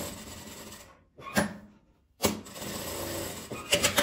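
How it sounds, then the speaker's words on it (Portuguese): A sewing machine stitches around stained fabric scraps in short bursts, its whirring motor stopping twice for brief pauses before running on again, close and clear. "Eu vou costurar ele aqui dando a volta."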